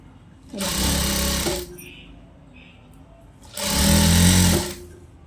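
A sewing machine runs in two loud steady whirring bursts while stitching a long frock, with a quiet pause between them.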